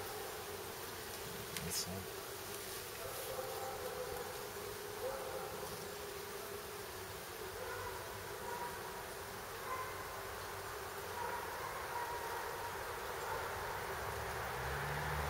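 Steady droning buzz of many bees, continuous and close, with a brief murmur of voices.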